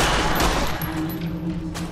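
Dense gunfire from a firefight in Fallout: New Vegas, a steady loud wash of overlapping shots with a low hum underneath and no talk.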